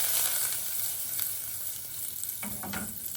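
Butter sizzling in a hot kadai, a bright continuous frying hiss close by, with a few soft utensil clinks near the end.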